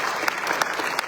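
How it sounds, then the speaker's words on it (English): A crowd claps steadily and densely throughout a brief moment, with a few sharper claps standing out. "Let's give a round of applause"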